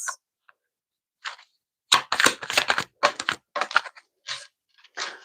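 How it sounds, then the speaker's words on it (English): Tarot cards being shuffled by hand, close up: quick papery riffles and crisp clicks in short bursts separated by brief pauses, fairly quiet, with no talking. "These are nice to shuffle."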